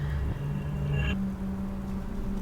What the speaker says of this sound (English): How did a perfectly functioning car break down all of a sudden?